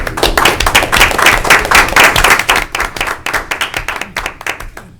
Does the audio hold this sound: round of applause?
yes